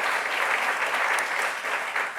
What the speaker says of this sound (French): Dorémy, on va l'applaudir très fort, s'il vous plaît.